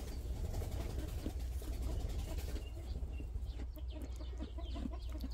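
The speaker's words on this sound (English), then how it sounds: "Sorry for the flapping in the background. That is chickens that are putting themselves to bed" Chickens settling in to roost on a homestead, a dense close chorus of wing flapping, rustling and soft clucks going on steadily throughout.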